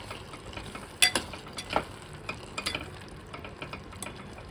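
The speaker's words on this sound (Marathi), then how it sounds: "आता कोथिंबीर पसरवून थोडंसं परतून घेऊ" Hyacinth bean (pavta/val) vegetable being stirred with coriander in a pan, giving soft scraping and clinking spatula strokes in an irregular rhythm over a faint background sizzle, close and fairly quiet, with no talking.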